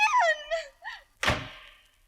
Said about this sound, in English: Come on in so we can lock the door.